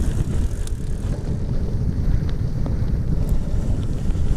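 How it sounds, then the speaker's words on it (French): Steady wind buffets the microphone of a bicycle riding a gravel forest path, a dense low rumble that stays loud and constant throughout. "il y a un petit vent frais qui s'est levé là"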